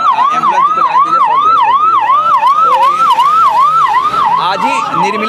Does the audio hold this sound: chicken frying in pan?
no